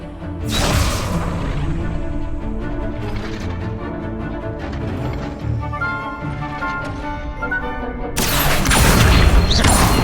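Spells cast in Hogwarts Legacy, with a sharp loud burst at the start, a dense run of crackling, whooshing magical effects through the middle, and another heavy booming blast near the end.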